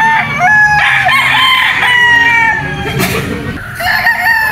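A lemon-cross gamefowl stag crows loudly and close by, with a long drawn-out call and then a second crow starting, on a game farm at Mt. Banahaw.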